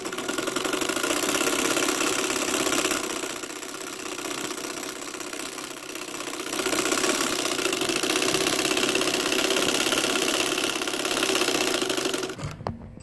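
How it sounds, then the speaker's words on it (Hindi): A sewing machine runs steadily, stitching a double seam on a stylish poncha (trouser-hem) design, with a continuous close mechanical whir and rapid needle knocking that stops abruptly near the end; there is no talking. "ये देखें, अब मैं इसके ऊपर डबल सिलाई लगाऊंगी।"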